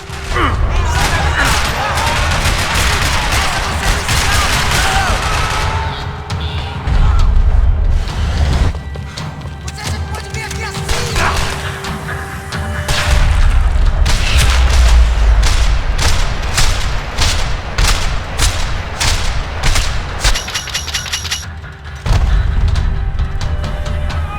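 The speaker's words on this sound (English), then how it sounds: "Another parking lot rattling with gunfire." Rapid bursts of gunfire and booming blasts rattle almost continuously in Max Payne 3, loud and close, with automatic fire stuttering in repeated volleys over a rumbling background.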